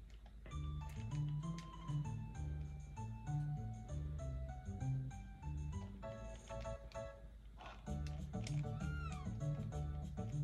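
Short meows from a pixel cat in the Chrono Trigger PlayStation game, heard over steady looping game music with a tonal melody and bass line throughout.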